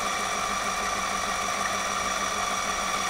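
A Tineco S5 wet-dry floor cleaner runs its wetting and cleaning cycle with a steady, close motor hum and whine, even and continuous with no talk over it.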